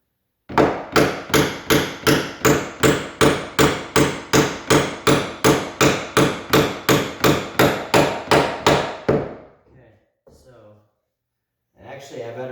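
A rapid run of about twenty evenly spaced hammer blows drives a nail into a 2x10 wooden stair tread, sharp and close, then stops, followed by a few faint knocks.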